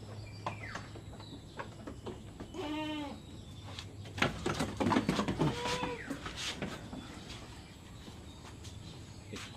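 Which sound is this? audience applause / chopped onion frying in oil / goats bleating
goats bleating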